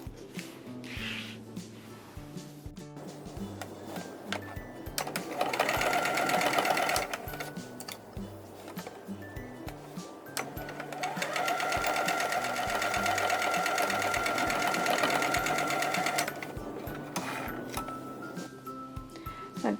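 A sewing machine stitches triangles onto the sides of a square quilt block, running in long, steady, close bursts with short pauses and soft handling noises between runs.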